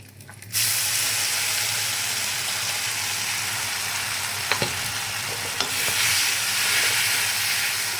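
Paneer with spice paste sautéing in a pan on low flame gives a loud, steady sizzle and hiss that starts suddenly, with a few faint spatula knocks partway through.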